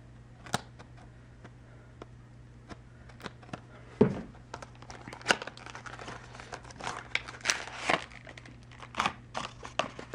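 Plastic packaging on a Force of Will Jet Black Phantom trial card deck is cut open and peeled, giving scattered crinkles, tearing and sharp ticks in irregular bursts against a faint steady hum.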